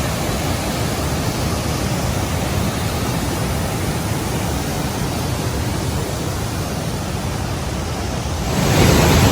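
Dismal Falls roaring steadily along a wet trail, a loud, dense rush of falling water that stays even throughout and swells slightly near the end.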